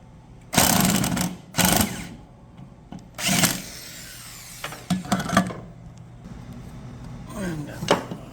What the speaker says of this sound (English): I got a socket with an impact, and I guess I'll pull these out